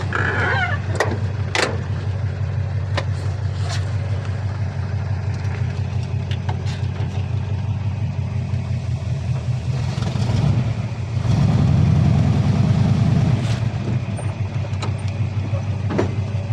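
A 1957 Chevrolet Army staff car engine drives along with a steady, loud low rumble, swelling heavier for a couple of seconds near the end before settling back, with no talking.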